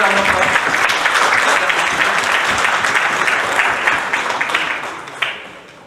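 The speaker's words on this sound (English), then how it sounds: "So I think a good round of applause" A lecture audience gives a full, steady round of applause for a speaker at a talk on food processing and climate change; the dense clapping stays loud for several seconds, then thins and fades toward the end.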